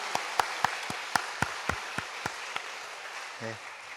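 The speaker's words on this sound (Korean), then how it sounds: "우리 하나님께 영광의 박수 한번 다시 한번 올려드립시다." A church congregation applauds during Sunday worship, a run of distinct claps that slows and fades over a few seconds before a brief voice speaks near the end.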